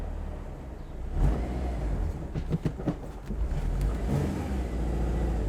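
A turbocharged eighth-generation Mazda Miata engine revs with a run of sharp throttle blips at close range, the broadband rumble rising and falling over a steady idle.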